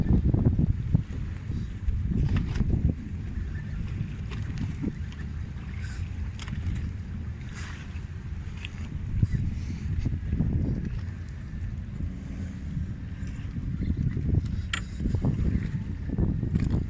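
Aboard the fishing boat Artemis 1 at sea, a low engine rumble and rushing water and wind noise carry on continuously, with occasional knocks and bumps rising through the hull.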